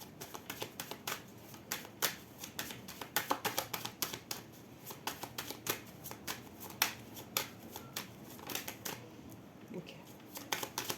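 A deck of L'oracle des miroirs oracle cards is shuffled by hand, producing quick irregular bursts of riffling and flicking at close range, fairly quiet.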